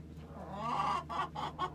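Backyard chickens in a coop give a short run of rising clucks and throaty calls, close and fairly loud, in a few quick bursts with no talking.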